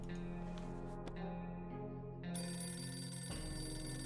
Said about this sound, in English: An alarm is ringing.